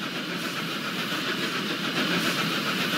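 A steam train in the Roblox game Steam Age speeds along with a steady rushing, rumbling roar, continuous and loud for the whole stretch, with no voices.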